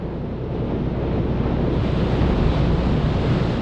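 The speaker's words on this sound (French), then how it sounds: "Un raz de marée prend forme. C'est le tsunami." Tsunami waves crash with violent wind gusts in a continuous, loud, roaring wash of surf and buffeting air that holds steady throughout.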